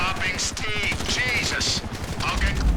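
Gunfire rattles through a firefight in the video game GTA V, with bursts of rapid automatic shots and sharp cracks layered over busy game effects, loud and dense throughout the short stretch.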